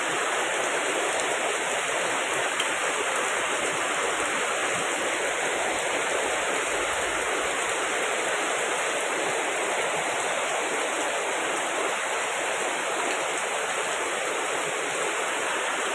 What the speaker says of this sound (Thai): หลวงพี่ก็หลบฝนนะหลบฝนอยู่ที่ตลาปู